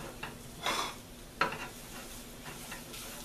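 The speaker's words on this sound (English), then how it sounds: "are gonna want to stir it around, and that's why it's called a stir fry, because it fries as you stir it" Food being stir-fried in a pan: a quiet, steady sizzle with a couple of louder scraping stirs, the sharpest one near the middle, and no talking.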